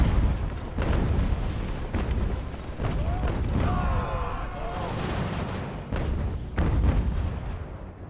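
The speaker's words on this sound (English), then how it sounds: "our guns are shooting at their gun" Artillery guns fire in Ultimate General: American Revolution at Fort Frederick, Maryland, with repeated deep booms at irregular intervals under a steady battle rumble while someone talks over the gameplay.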